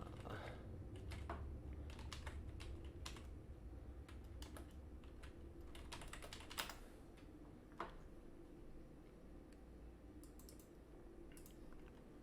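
Steady clicking of keys on a computer keyboard, a quick uneven run of close taps with short pauses, over a low constant background hum.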